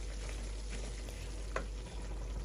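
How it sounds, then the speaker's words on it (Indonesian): Spice paste for green chili sauce frying in a pan, a steady dense sizzle running throughout with a faint stir or scrape mid-way, close and alone with no talk. "Nanti masak hingga semuanya bumbu ini matang sempurna."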